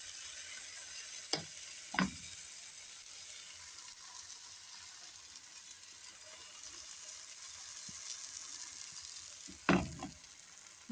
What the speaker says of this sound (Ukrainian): І будемо жарити блінчики пічоночні.